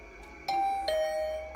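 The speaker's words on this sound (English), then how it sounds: "My heart did a somersault when my doorbell suddenly rang." In the video game Hundred Line Last Defense Academy, a doorbell chimes with two clear, ringing ding-dong tones, followed by a faint third tap, alone against a quiet background.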